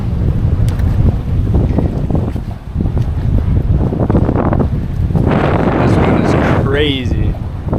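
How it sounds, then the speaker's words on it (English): Strong storm wind blowing 40 to 50 mph outdoors on a snook fishing trip, a loud continuous buffeting roar against the microphone with gusty surges, while a person talks over it. "It's blowing like 40, 50 mile an hour winds out here."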